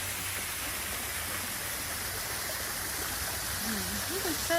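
Water rushing and splashing over rocks along a creek on a Texas nature hike, a steady broadband roar running throughout with brief voices or bird-like calls near the end.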